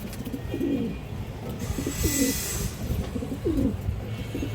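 Pigeons coo softly in a recurring rhythm, three or four low throaty calls spaced across a few seconds, close by over a steady background hum among domestic fancy pigeons kept for sale.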